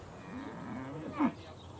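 A single low moo from a heifer at a farm, fairly distant and brief, with faint background noise and no talking.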